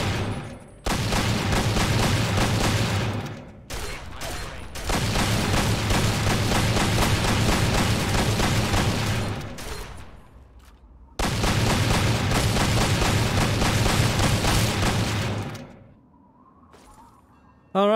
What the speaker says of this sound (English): I need to cover my ears after this gun is shot